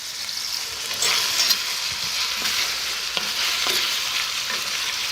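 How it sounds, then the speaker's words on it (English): Potatoes frying in a pan with loose sausage meat, a continuous close sizzle with stirring and scraping throughout and a few louder bursts along the way. "Let's put in the potatoes that we have."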